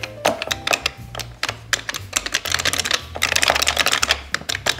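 Rapid clicking keystrokes on an Arduino-built custom keyboard, close and clear, in quick irregular bursts with brief pauses and no talking.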